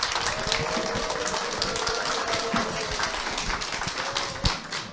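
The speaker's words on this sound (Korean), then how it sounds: "큰 박수로, 우레와 같은 박수로 맞아주시기 바랍니다." A seminar crowd applauds steadily with dense, continuous clapping throughout, a few sharper claps standing out near the end.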